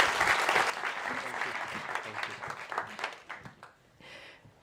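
Applause from an audience at an education innovation summit award ceremony, a dense burst of clapping that starts loud and gradually thins and fades over several seconds.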